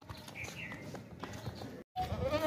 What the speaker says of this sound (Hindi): मक्खी चीनी बकरी है।